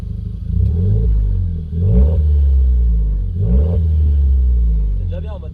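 A Renault Clio 4 RS in normal mode revs loudly and close by, with two distinct blips of the throttle that rise and fall before settling back to a steady idle rumble.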